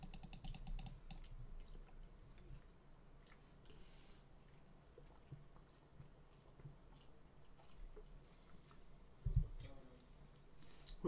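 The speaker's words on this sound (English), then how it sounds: "Gotta be clicking everywhere now." Rapid mouse clicking on a computer while playing the point-and-click game Samorost 1, quiet taps scattered irregularly across the clip with a low background hum and one louder bump near the end.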